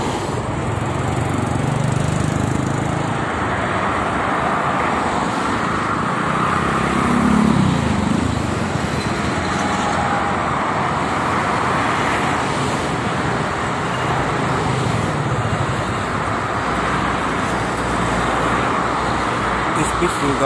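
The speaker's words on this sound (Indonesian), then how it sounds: "Ke barat itu banyak sekali mobil truk barang." Cars and goods trucks roll along the Jakarta-Cikampek toll road in the morning, a loud, continuous roar of tyres and engines with no distinct pass-bys standing out.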